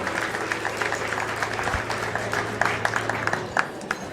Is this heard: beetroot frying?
no